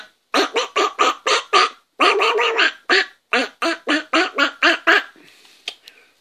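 A person imitates a duck with a rapid series of loud, nasal quacking bursts in close succession, some drawn out, close to the mic, ending in a few fainter noises.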